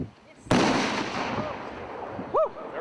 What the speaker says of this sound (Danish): klar til den store kanonsalut